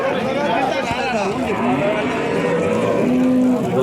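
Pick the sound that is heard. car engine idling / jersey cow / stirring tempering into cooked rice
jersey cow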